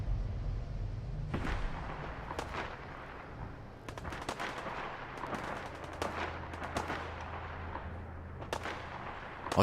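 Gunfire in the video game Fallout 4: scattered shots and rapid bursts crack out over a low rumbling background, some distant and some sharper and closer.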